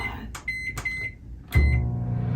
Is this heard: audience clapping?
no